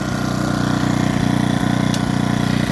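A Kvitka Pro SC2000i inverter generator runs in eco mode, a steady low engine drone with a regular pulsing rhythm, close and constant throughout.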